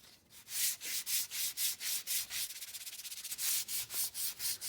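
A hard maple wooden spoon is hand sanded with 60 grit sandpaper, giving a close, rhythmic run of rasping strokes that quicken to short rapid rubs midway and then return to longer, even passes.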